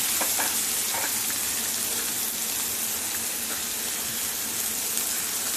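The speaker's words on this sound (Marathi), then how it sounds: "आणि ही ढवळत राहायची भाजी चांगली दहा मिनटं ढवळत राहायची आहे" Bitter gourd frying in a pan gives a steady, loud, close hiss of sizzling oil, with occasional soft scrapes and taps as it is stirred.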